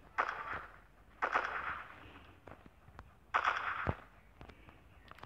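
Gunfire in the video game MilkChoco: three sharp bursts of rapid shots roughly a second apart, with a few faint single clicks between them, fairly quiet overall.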